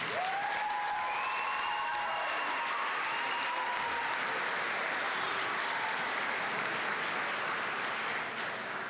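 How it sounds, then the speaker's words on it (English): Applause for a class of 2010 at a high school graduation, a broad, sustained wash of clapping from a large crowd, with a few cheers and whistles early on. "Can we have a round of applause, please, for everyone?"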